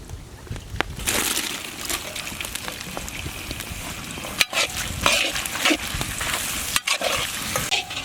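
Onions frying in pure ghee in a pan, steady crackling sizzle with stirring scrapes and occasional sharp clacks of a utensil, close and continuous.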